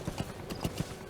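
D-Horse's hooves clip-clop in the Metal Gear Solid video game, a brisk run of about six soft thuds in an uneven trotting rhythm, set over a steady background hum from the game.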